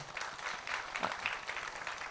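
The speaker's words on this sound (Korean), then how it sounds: "인사할 때 우리 박수로 환영하겠습니다." Steady applause from a church congregation welcoming guests, dense continuous clapping heard from some distance, fairly soft and even throughout.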